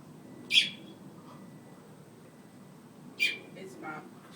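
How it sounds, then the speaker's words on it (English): A baby robin, fallen from a roof and hungry, gives two sharp high chirps about three seconds apart over a steady low background hum, with a fainter call trailing after the second. "It's a baby robin."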